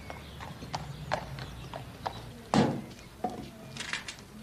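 A lame horse walks with irregular clip-clopping hoofbeats, a series of sharp knocks on a hard floor with one heavier thud midway, close and clear without talk.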